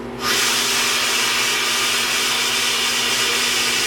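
Air rushes into a freeze dryer's vacuum chamber through an opened valve, heard as a sudden loud, steady hiss that starts abruptly and holds constant.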